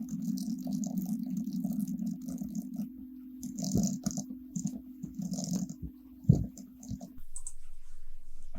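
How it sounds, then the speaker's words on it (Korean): Fingers type on a computer keyboard while entering a Korean word-processing document, producing irregular soft clicks and taps over a steady low electrical hum, with a couple of sharper knocks near the end. "타이핑 먼저 해볼게요"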